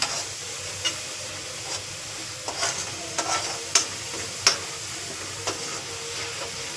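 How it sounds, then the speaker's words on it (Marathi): Onion stir-fried for a chole chickpea curry masala, hissing steadily in a hot pan with sharp scrapes and clinks of the spatula scattered throughout, close and clear with no talking. "याला चांगलं परतून घेऊया."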